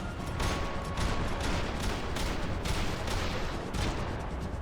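Dense, continuous gunfire from Max Payne 3 rattles on without a break, bursts layered over one another at steady loudness with no talking.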